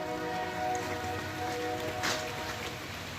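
Steady rain falling outdoors, a dense, even hiss of drops with no let-up and no voices, fairly faint and continuous throughout.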